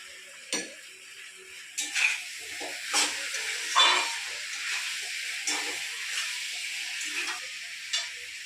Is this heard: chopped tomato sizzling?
yes